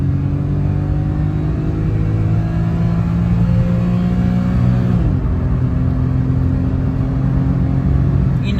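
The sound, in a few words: Daihatsu Mira Gino car accelerating in a quick pull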